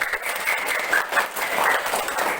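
Applause from students in a classroom for a presenting group, a dense, continuous patter of many hands clapping at moderate loudness for a couple of seconds, with no voices over it.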